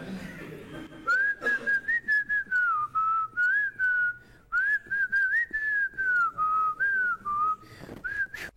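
Someone whistles a melody in clear, loud, tuneful phrases, a series of gliding notes broken by short pauses and a brief gap midway, close to the listener.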